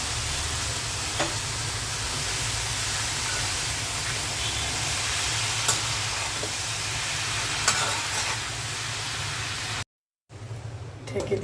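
Red amaranth greens stir-fried in a pan with lightly fried onion and garlic give off a steady, close sizzle with stirring scrapes, running continuously before a brief cut and resuming.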